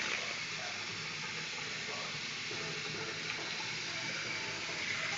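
A tap runs in a steady, even hiss of flowing water, close and constant throughout with no pauses.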